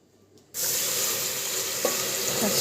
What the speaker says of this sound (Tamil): இந்த அளவுக்கு வறுத்ததுக்கு அப்புறம் நம்ம தண்ணி ஊற்றி நல்லா வாஷ் பண்ணி எடுத்துக்கலாம்